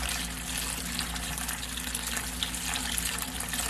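Cold water gushes steadily from a tap into a pan for pickling cauliflower, a continuous splashing fill with no talking.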